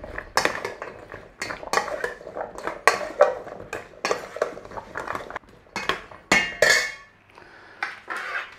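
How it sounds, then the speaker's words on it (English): Carrots being tossed with a glaze in a bowl for oven roasting, giving repeated sharp clinks and scrapes of a utensil against the dish, close and fairly loud, in an irregular rhythm with no talking. "Take your carrots and chuck your glaze on there. Mix up."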